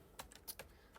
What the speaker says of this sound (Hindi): यहाँ पे हम लिखते हैं नवीद